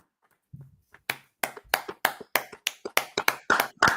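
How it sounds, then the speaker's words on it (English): Hands clap about a dozen times in a steady, fairly quick rhythm. The claps are close, sharp and clear, with no talking over them. "Let's go ahead and clap it up"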